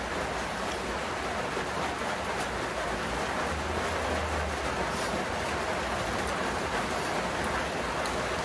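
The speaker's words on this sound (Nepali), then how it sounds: "पानी पर्यो गाइस" Steady, dense rain pours down with a constant hiss, heavy and close, with no voices.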